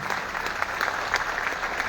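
A seminar audience claps loudly and briskly, a dense burst of many hands that holds steady for a couple of seconds.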